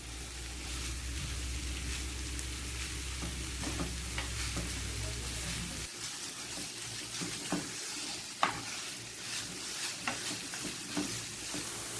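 Half a kilo of minced keema fries in a pan with a bright, steady sizzle, joined by sporadic scraping stirs, and a low background rumble drops away midway.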